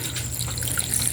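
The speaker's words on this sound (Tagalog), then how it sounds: "Ilagyan pa ng tubig, may konti lang po." Water pours and splashes into a pan of squid adobo as it cooks, a short, continuous trickling rush heard up close.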